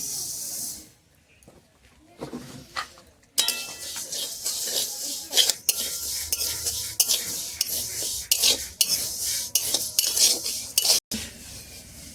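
Moong dal is dry-roasted in a pan while a spoon scrapes and stirs it, giving repeated close, gritty rustles and clinks with a faint hiss after a quieter start.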